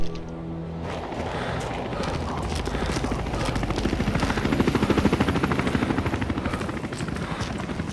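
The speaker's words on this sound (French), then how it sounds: "Il y a des hélicos dans le coin" Helicopter rotor chop from Sniper Ghost Warrior 2, a steady dense thudding that swells toward the middle and stays loud over a rumbling game soundscape.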